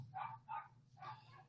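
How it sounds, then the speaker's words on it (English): Dogs barking at home as a garage door opens: three short yapping barks, the first two quick and close together, then a longer one after a pause, fairly faint over a low hum. "The dogs are going crazy."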